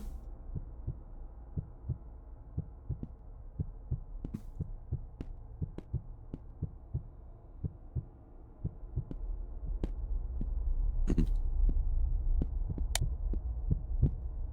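Heartbeat in a horror video game set in a future where portraits have turned into skeletons: steady, thudding low beats over a droning hum, the rhythm quickening and the hum swelling louder in the second half.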